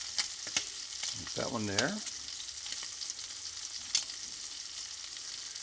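Shrimp for shrimp scampi sizzle steadily in a pan, a close, constant frying hiss with a few sharp clicks of handling. A voice speaks briefly over it.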